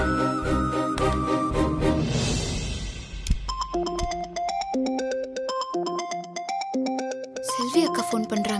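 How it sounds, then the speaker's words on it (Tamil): A mobile phone rings with an incoming call, a repeating melodic ringtone chiming steadily and clearly for several seconds, following a brief stretch of background music. "செல்வி அக்கா ஃபோன் பண்றாங்க"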